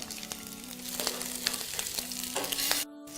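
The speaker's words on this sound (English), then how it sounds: "I just love the sound of a sizzling meal." Steady, loud sizzling of meatballs frying in a pan, crackling and popping continuously before cutting off abruptly near the end.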